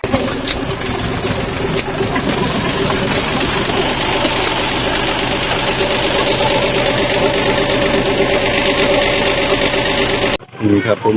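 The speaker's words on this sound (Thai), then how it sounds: "มีรถไถมาดึง" A tractor engine drones steadily at a weir as villagers use it to pull out masses of weeds. The drone runs loud and continuous under talk, then cuts off abruptly near the end.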